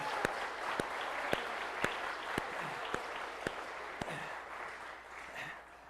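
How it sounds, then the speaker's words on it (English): An outdoor crowd at a star party applauds in a soft, steady patter, the clapping fairly distant and quiet, broken by a series of sharp, regularly spaced clicks. "So let's give him a big round of applause."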